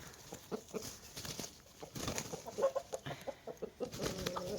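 Pekin and Brahma chickens and a rooster cluck and squawk in short, uneven bursts nearby, a busy flock with no talking.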